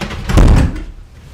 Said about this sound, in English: Can you please shut the door?